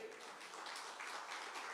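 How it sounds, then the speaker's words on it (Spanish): A church congregation applauds its preachers with a soft, steady patter of clapping that holds evenly throughout, distant and fairly faint. "¿Cuánto le damos aplauso a estos predicadores que tenemos aquí?"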